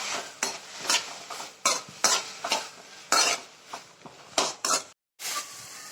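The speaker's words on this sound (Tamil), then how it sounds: "மீடியம் சைஸ் தக்காளியை போட்டுக்கிறேன். போட்டு நல்லா வதக்கிக்கோங்க." Tomatoes and onions sautéed in butter in a pan for paneer butter masala: repeated rhythmic spatula scrapes and clanks against the pan over a low sizzle, close-up, with a brief pause near the end.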